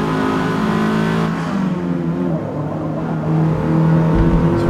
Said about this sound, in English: Just it's a little bit too whirry for my liking, the soundtrack.